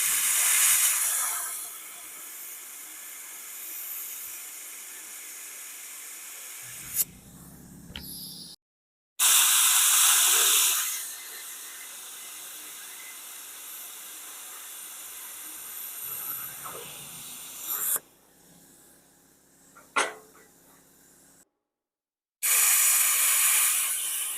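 YESWELDER Cut 65DS plasma cutter cutting metal on compressed air from a small compressor, a loud close hiss in long bursts, broken by quieter stretches and a few sudden silent gaps.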